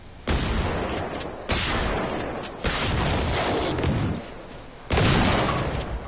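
Loud bursts of gunfire in a hunter-themed video game, with heavy booming shots crowding one another in repeated dense volleys and brief pauses between them.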